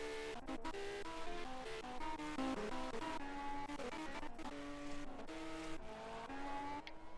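Race cars circulating during a Le Mans qualifying session, heard as shifting harmonic engine whines that climb and drop through gear changes, fairly faint and continuous with no voices.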